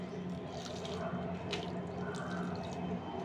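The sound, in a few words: water being poured onto a jasmine plant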